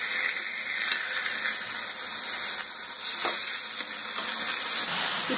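Prawns frying in a banana leaf in a pan give a steady, close hiss and sizzle with faint crackles throughout, no talking.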